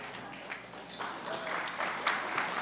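A debate audience bursts into early applause, a moderately distant wash of clapping that swells and holds for a couple of seconds.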